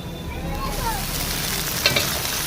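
Cauliflower is tipped into carrots already frying in hot oil, giving a loud, close sizzle that stays constant with a brief burst of crackling as the pieces go in.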